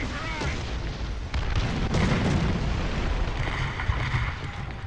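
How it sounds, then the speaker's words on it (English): Artillery barrage in the War Thunder ground forces battle game: repeated heavy booms and rumbling blasts roll over dense battlefield noise, with a sustained low roar throughout. "Our sector is under artillery barrage!"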